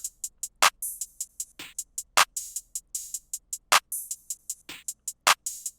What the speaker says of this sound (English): It's basically just like a more bit crushed no lie snare